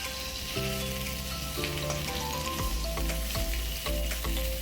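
Steady sizzling of potato and eggplant frying in a pan, with occasional clinks and scraping of stirring; close and continuous, no voices.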